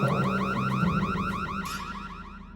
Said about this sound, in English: Yeah, we had another fire alarm, aka smoke buddy.